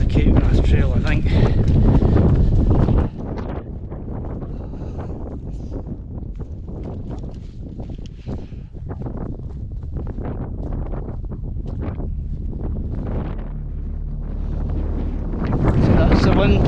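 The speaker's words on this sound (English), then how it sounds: "So that's the wind picking up." Strong wind gusting across a remote hiking trail on the Cape Wrath Trail in Scotland, buffeting the microphone with a steady roar that is heaviest at the start and swells again at the end.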